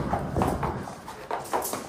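Horse hooves clip-clop on the ground at a farm, a few uneven, fairly close strikes in a short stretch with faint voices in the background.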